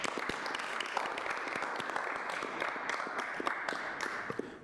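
Applause from the audience at a city public safety review and appeals board meeting, steady dense clapping from a roomful of people that holds for several seconds at moderate level, with no speech over it.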